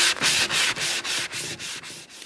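Solid ash wood for a bench being sanded by hand in quick back-and-forth strokes, about nine rhythmic rasping passes, each with a short gap between them, close and steady with no talk.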